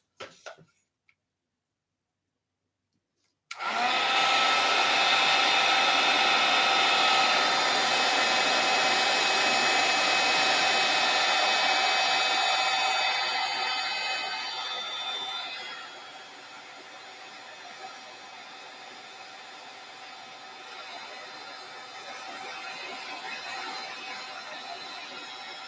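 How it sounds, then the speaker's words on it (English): A heat tool blows steadily onto a mixed media canvas, a loud continuous whirring rush that starts abruptly after a short silence, then drops to a lower, quieter hum partway through and runs on without talk. "using my heat tool again"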